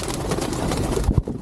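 Pigeons coo in a loft in Saudi Arabia, a dense low murmuring of many birds close by, with a couple of soft thumps near the end.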